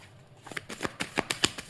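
Tarot cards are shuffled and drawn close up, giving a quick series of soft, crisp flicks and slaps that speed into a rapid riffle.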